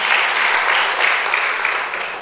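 A church congregation claps at a sermon, a short, steady burst of many hands that stays loud for about two seconds and then begins to thin out.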